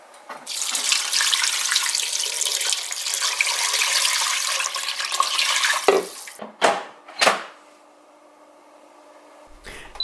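Water runs steadily into a crockpot holding vinegar, black peppercorns, bay leaves and salt for bone broth, a loud continuous splashing pour that stops, followed by a few short knocks and clatters.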